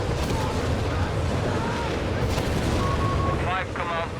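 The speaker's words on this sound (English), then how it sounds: "Third Nebelwerfer now joining in the chorus of doom" Nebelwerfer rocket artillery barrage in Company of Heroes 3, a dense continuous roar of overlapping launches and blasts filling the whole stretch, with whistling rocket streaks rising near the end.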